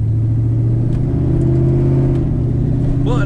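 A car with a torque-converter transmission that the driver shifts through the gears manually gives a steady, loud mid-pitched engine drone. The hum holds close and continuous with a faint rising whine near the end, and no one speaks.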